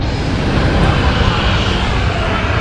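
A WestJet Boeing 737-800 jet roars loudly and steadily at Maho Beach by St. Maarten airport, a dense unbroken rumble filling the whole moment.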